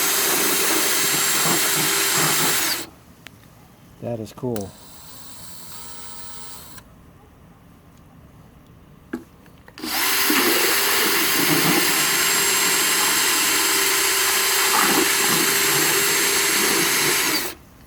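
A Husky paint mixer's loud, steady high-pitched motor whir runs at length at high speed, cuts out for several seconds of quieter handling noise, then roars back at full speed.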